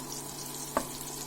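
Chopped onion with cardamom fries in a pan, giving a soft, steady sizzle with one small pop, quiet and close.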